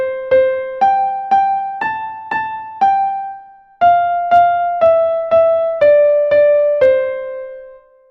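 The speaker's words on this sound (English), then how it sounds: "when I am just playing the tune of Twinkle Twinkle Little Star" Twinkle Twinkle Little Star as a single bare melody line, with no accompaniment: fourteen evenly spaced notes that ring and decay, pausing briefly after the seventh, clear and close.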